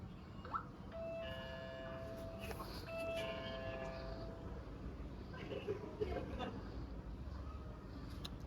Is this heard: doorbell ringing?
yes